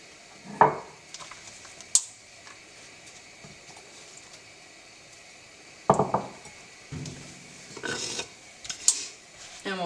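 Portobello mushrooms drop into an oiled pan in a few scattered clattering bursts, with metallic clinks of utensil against the pan and a faint sizzle in between, heard up close.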